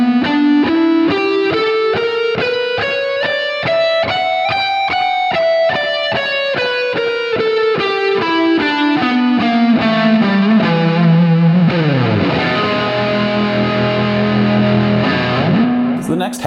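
A heavily distorted electric guitar plays a custom scale starting on E, single notes climbing steadily and then descending in an even rhythm before ending on a sustained chord, loud and close with no talking.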